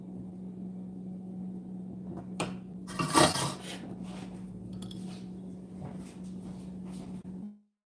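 A metal frying pan is handled in a home kitchen while pork chops stuffed with chutney are prepared, giving a few clattering knocks and scrapes, one louder clank near the middle, over a steady low hum.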